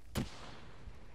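A frag grenade goes off in Arma 3: one sharp, heavy blast near the start, followed by a fading rumble and a faint second thud, with no voices.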